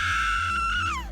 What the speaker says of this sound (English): It was this awful scream, definitely a woman's